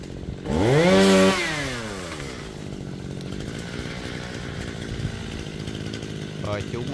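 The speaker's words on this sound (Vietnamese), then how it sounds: "Rồi chú mình bắt đầu cưa mở miệng nha." A chainsaw cuts into a tall palmyra palm standing near houses and power lines, its engine revving sharply to a loud, rising whine before settling into a steady, lower drone for the rest of the stretch.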